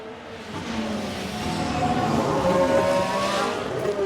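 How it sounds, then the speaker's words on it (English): A Formula 1 car locks up its tyres in the racing game F1 Manager 2022, with a sustained tyre squeal over engine noise. The skid builds slightly louder through the middle and continues steadily to the end. "Looks like there's been a lockup."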